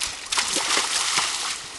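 A horse splashes through a stream during cross-country riding, with a steady burst of nearby water sloshing and spraying that lasts about two seconds.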